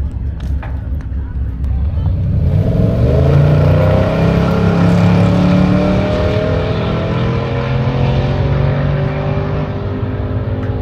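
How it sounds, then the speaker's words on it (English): Cars launching and accelerating down a drag strip at a GM tailgate event, one run at a time: a loud engine roar swells after the first couple of seconds and holds steadily, with rising gear-change tones and crowd voices underneath. "Starting the drag racing here."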